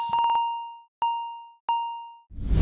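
Bright plucked synth notes: a quick run of five rapid plucks, then two single notes ringing out with decaying tails, ending in a soft noisy swell.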